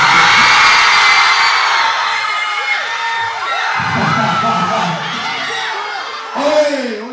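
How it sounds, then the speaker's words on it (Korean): A crowd of high school students cheers, whoops and shouts loudly and continuously at a graduation concert at Seonbu High School in Ansan, with a brief louder swell of voices near the end. "박수 한번 쳐주세요"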